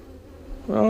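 Honeybees buzz at an open top-bar hive, a steady insect drone that swells sharply louder near the end as the bees come close and mass together.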